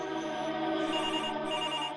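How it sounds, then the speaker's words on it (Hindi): A telephone ringing steadily and continuously, a bright, fairly loud electronic ring with no one answering yet. "पर ये सर का फोन होगा तो अपन ने नहीं उठाया तो सर अपन को नौकरी से निकाल देगा।"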